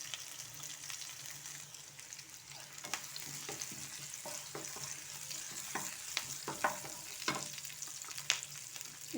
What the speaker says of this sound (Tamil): இது முதல் நல்லா வதங்கணும்.